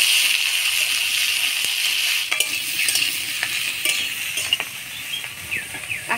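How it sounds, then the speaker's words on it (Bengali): Jackfruit stirred and fried in a little oil, with a steady sizzle under repeated scraping and clinking of a spatula against the pan, close by. "কাঁঠালটা হালকা তেলের মধ্যে নাড়াচাড়া করে নিলাম"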